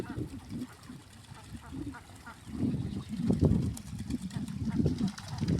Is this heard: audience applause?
no